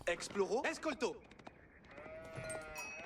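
A sheep in the Age of Empires IV video game bleats loudly and wavers for about a second, then fades into soft sustained game tones.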